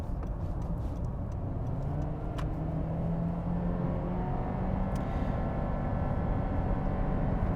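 Inside a 2023 Honda CR-V EX-L accelerating on the highway to pass, a steady engine hum and road roar fill the cabin continuously, with a few faint ticks and no talking.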